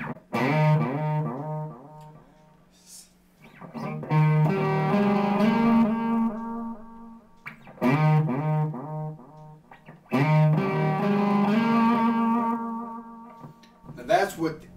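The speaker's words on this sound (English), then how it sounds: "with the delay in front of the distortion, you can hear that the repeats just sound kind of" Electric guitar with a distorted tone plays repeated riff phrases, each trailed by echoing delay repeats from a delay pedal placed before the distortion, with short pauses between passages.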